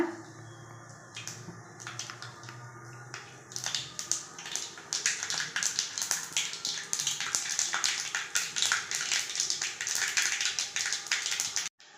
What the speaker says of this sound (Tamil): பாருங்கள் கடுகு நல்லா பொறிஞ்சிச்சு